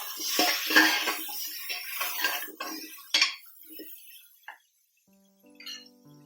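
A spoon stirs coriander and cumin powder in a pan for a papaya and potato curry, making clinking, scraping metal sounds that fade into silence, followed by a faint electronic tone.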